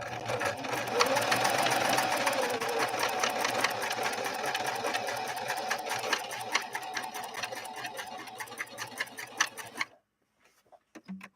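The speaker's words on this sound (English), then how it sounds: "Let's see if we can lay down a fairly wide zigzag on this real puffy, luffy type fleece material." A Husqvarna Model 145 sewing machine runs a wide zigzag stitch through thick, puffy fleece, a loud steady rapid mechanical whirring and clatter for about ten seconds before stopping, followed by a few faint clicks.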